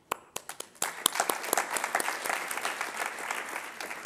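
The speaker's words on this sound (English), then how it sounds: "Let's give a round of applause." Scattered claps build quickly into full, sustained applause from a graduation ceremony crowd, with sharp individual hand claps standing out at the start before merging into a dense, even roar.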